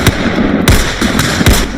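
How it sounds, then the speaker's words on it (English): Several sharp, loud gunshots in quick succession in an Oakland neighborhood, ringing out close by with a booming echo between them. "Gunfire erupts in one Oakland neighborhood."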